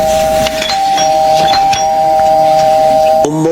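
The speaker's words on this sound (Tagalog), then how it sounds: "kahit mag-doorbell ka dyan, hindi kita bubuksan." A doorbell at a gate rings loudly and close with a sustained electronic two-tone chime that holds for about three seconds, then shifts to a different lower tone just before the end.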